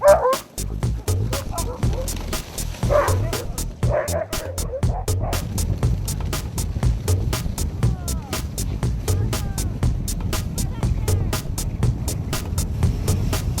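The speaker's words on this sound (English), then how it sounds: "Dog sledding!" Sled dogs on a dog sledding ride bark and yip in rapid, repeated bursts, a whole team close by and continuous, with rhythmic clatter underneath and a person talking briefly near the start.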